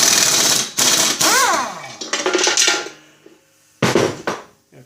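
An Ingersoll Rand air impact wrench with a loose air fitting hammers in loud, rapid bursts on a spindle nut of a Snapper rear engine riding mower, with short pauses between bursts.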